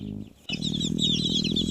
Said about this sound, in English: These are our smallest chicks that roam freely.